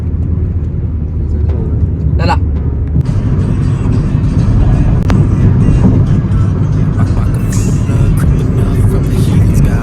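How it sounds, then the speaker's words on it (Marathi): A car driven along the highway towards Nashik, its engine and road rumble droning steadily and close throughout, with a person speaking briefly near the start. "आपण आता गाडी चालवूया नाशिक पर्यंत"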